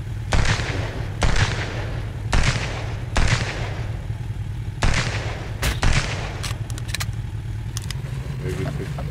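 Gunfire in the survival video game Sunkenland, a series of sharp separate shots spaced irregularly, several loud and close, with a low steady hum underneath and a voice talking over it.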